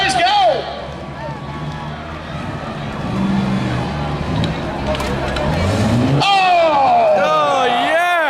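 Pure Stock Compact demolition derby cars revving their engines at the 2018 Crawford County Fair in Meadville, a continuous loud roar of several motors rising and falling under crowd babble and voices.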